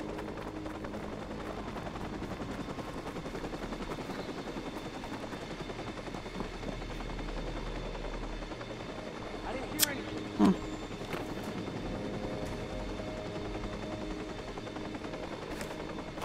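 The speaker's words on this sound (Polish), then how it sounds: "no helikopter mnie widzi" A helicopter in the video game Watch Dogs gives a steady rotor drone throughout, with a brief sharp burst partway through, under a player's talk.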